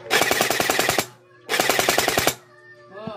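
Bohan AR16 toy gel blaster rifle, 80% metal, firing on full auto in two rapid bursts of about a second each, sharp mechanical rattling shots close by, with a short pause between and a faint click afterward.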